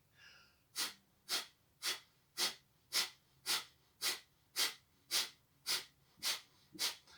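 Rapid, forceful kriya breathing exercise: about twelve sharp, evenly spaced breath bursts at a steady, quickening rhythm, close and loud, with no talking over them.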